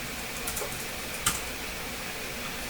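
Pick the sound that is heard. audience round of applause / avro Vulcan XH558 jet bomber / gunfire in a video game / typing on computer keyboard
typing on computer keyboard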